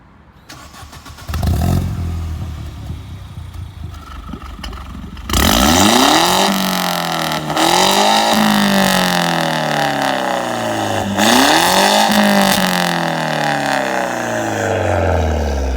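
A Mini Cooper engine cranks and fires, then revs repeatedly in loud rising and falling sweeps, idling between each blip, heard close up outdoors with no talking.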